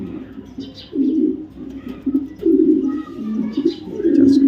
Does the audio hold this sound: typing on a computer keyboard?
no